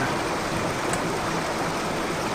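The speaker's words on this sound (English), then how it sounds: "I may have to turn down the audio because of that stupid waterfall again" Waterfall in the Indiana Jones and the Infernal Machine video game, a steady loud broadband rush of falling water that stays constant with no pauses and no voices.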